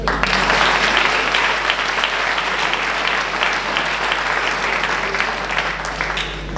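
Audience applause at a town New Year's greetings ceremony in Viviers, a loud, sustained wash of many people clapping across the whole stretch, easing slightly toward the end, with a steady low hum beneath.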